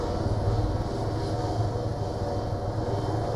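A helicopter engine in a video game drones steadily and loud throughout, a continuous low rumble with no break.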